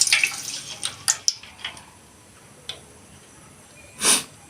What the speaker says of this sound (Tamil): ஆயில் ஊற்றிக்கலாம்.